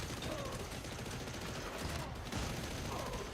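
Enemy submachine guns fire in the video game Warhammer Darktide as a dense, unbroken rattle of rapid shots that stays loud and close for the whole stretch, with no talking.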